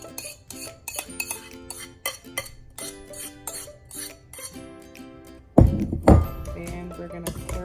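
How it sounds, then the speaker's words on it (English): Shrimp being stirred in marinade in a bowl, a rhythmic run of utensil clinks and scrapes against the dish, growing louder and wetter toward the end. "And we're going to stir this up."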